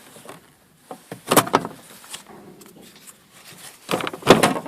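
The rear seat backrest of a VAZ 2114 car is taken out with a few sharp plastic and metal knocks and clunks, separated by quieter rustling and handling sounds close by.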